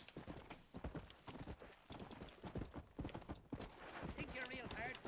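A horse in Red Dead Redemption clip-clops along in quick rhythmic hoofbeats, and a brief whinny rises near the end. Several people talk over the sound throughout.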